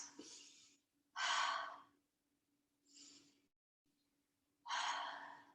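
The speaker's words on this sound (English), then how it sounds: "How about some big cleansing breaths?" Big cleansing breaths during a yoga class: three loud, drawn-out breaths, each about a second long, with a shorter, softer one between them and near-silent pauses in between.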